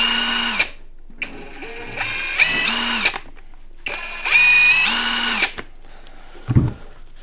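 A HEIMERDINGER LB165 impact wrench whirs in several short bursts up close, each one winding up to a high whine and spinning down, with quiet gaps between them and a soft clunk near the end.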